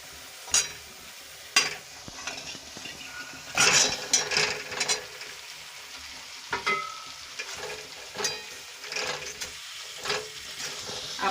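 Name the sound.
stirring potatoes frying in spice masala in a pan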